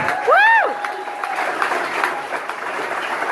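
A comedy club audience applauds at the Comedy Cafe on a Saturday night, a steady wash of clapping running throughout beneath a brief whoop near the start.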